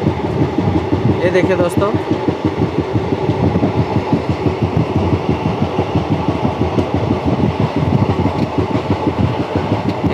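An Indian Railways train runs at a steady pace, its wheels clacking in a fast regular rhythm over a loud rumble, heard from on board while someone speaks briefly over it.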